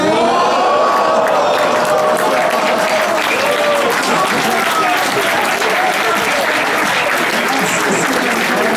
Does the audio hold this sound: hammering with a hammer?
no